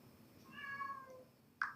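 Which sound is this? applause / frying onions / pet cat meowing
pet cat meowing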